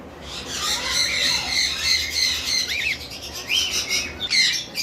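Pet parrots at a bird farm, among them conures, sun conures, lovebirds and cockatiels, give repeated shrill squawks and squeals nearby, with overlapping calls and some wing flutter.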